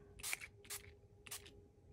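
A pump bottle of Distress Mica spray mists deep purple colour onto paper in three short hissing bursts, quiet and close, with a faint steady hum behind.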